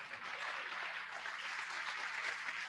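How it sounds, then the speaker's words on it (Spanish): Audience applause after a presentation at an academic event on automatic control theory, a steady wash of clapping sustained at moderate, fairly distant level through the whole span, with no talking over it. "De acá recibe un fuerte aplauso"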